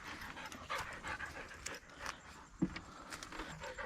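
Husky panting in quick, steady breaths close by, out on trails in a pine forest, with light rustling and shuffling around it.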